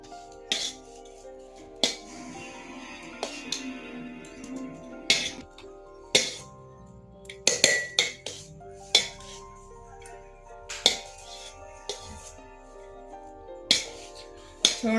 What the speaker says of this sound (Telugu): ఆ రైస్ అంతా ఇందులో ఒక గిన్నెలో అయితే వేసుకుంటున్నాను అనమాట. ఇందులో ఇంకా మనం పులుసు అంతా పోసి ఇంకా కలుపుకోవాలి